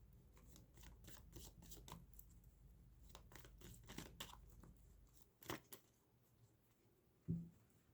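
Tarot cards shuffled by hand in repeated soft riffling bursts, close and quiet, followed by a few sharper taps near the end.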